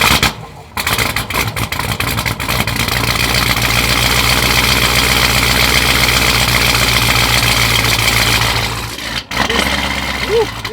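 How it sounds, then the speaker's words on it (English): A 1100 HP Jeep Trackhawk built by Overkill Performance and running on E85 fires up from cold into a loud, steady, rumbling idle that stays close throughout, with brief dips near the start and again toward the end. "So let's get a cold start for you guys."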